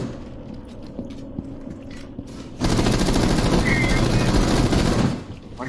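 Rapid automatic gunfire from the video game Rainbow Six Siege rattles loudly and continuously for a few seconds as shots hit a solid wall, preceded by quieter in-game clatter and mechanical noise.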